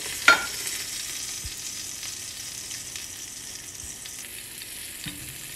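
A salmon fillet sears in a hot pan with a steady, close sizzle throughout. A sharp clack comes near the start and a few soft knocks follow.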